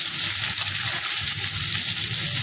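Pointed gourd (potol) sizzling in a few spoonfuls of hot oil, a steady bright hiss that holds evenly from start to finish.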